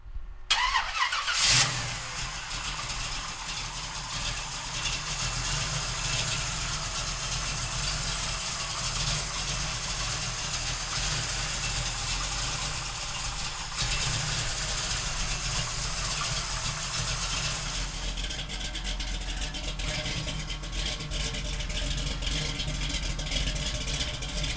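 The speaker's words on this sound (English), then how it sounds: "We're gonna fire it up for you right now." A 1968 Chevrolet Camaro with a 454 V8 cranks and catches at the start, then settles into a loud, steady, rumbling idle close by for the rest of the time, with no talking.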